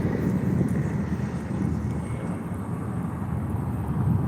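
A steady low rotor rumble and wind-buffeted drone of a landing Bell helicopter by the New York waterfront, fairly close and continuous, with no talking.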